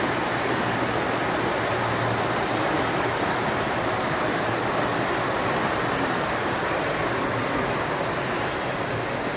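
A steady, continuous rumble and rattle of a large-scale model intermodal freight train rolling past close by at a model railroad in Kingston, New York, unchanging in loudness throughout with no voices.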